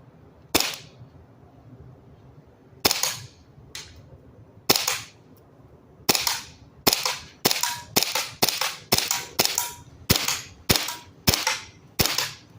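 Staccato Perfect 11 6mm airsoft gas pistol firing, sharp close cracks, first spaced a second or two apart and then in a quicker run of about a dozen evenly paced shots, each with a short decaying tail.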